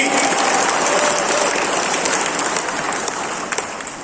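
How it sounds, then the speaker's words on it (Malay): Loud, dense applause from a large crowd at a Perikatan Nasional political rally in Sabah, honouring the SAPP party president, sustained and close before easing slightly at the end. "berikan tepukan gemuruh kepada SAPP"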